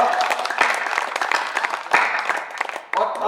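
Audience applause at a Hindi comic poetry recital in Ujjain, a dense wash of many hands clapping steadily and loudly, with a couple of sharper surges, filling the whole stretch without any voice.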